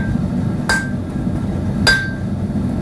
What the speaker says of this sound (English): And then a hammer on that,